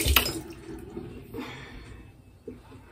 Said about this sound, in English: Okay, so I'm rinse my hands off.